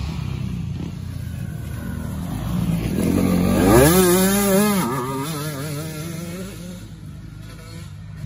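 A motocross dirt bike grinds through ruts, its engine rising to a loud rev near the middle with wavering pitch, then easing back to a steady drone.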